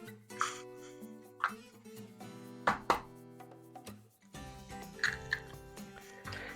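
Two large white eggs are cracked and worked into an egg wash in a kitchen, with sharp taps, cracks and soft wet drips close by over light background music.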